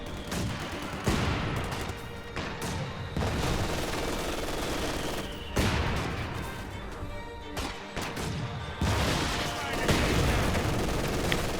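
Battlefield gunfire from the Company of Heroes 2 strategy game on the Rails and Metal map, with dense, continuous machine-gun bursts mixed with heavy mortar blasts and crashes, loud and layered throughout, with a voice speaking over the combat.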